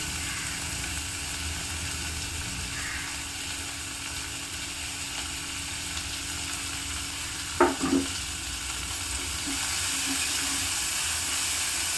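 A low, steady sizzle of onions frying in a pan, with a brief scrape of stirring partway through.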